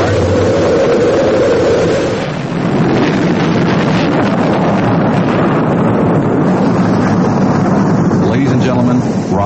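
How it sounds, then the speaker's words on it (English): Rocket main engines ignite at launch with a loud, continuous rumbling roar full of crackling broadband noise, heavy and distorted, while a voice speaks over it. "We have main engine start."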